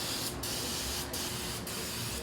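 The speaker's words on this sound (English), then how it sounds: "Clean it up with some parts wash." Parts wash cleaner sprays from an aerosol can onto the oil filter area of a Porsche 996 in a continuous close hiss, with several short breaks as the nozzle is released and pressed again.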